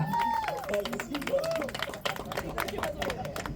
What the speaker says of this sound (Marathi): हिच्यासाठी जोरदार टाळ्या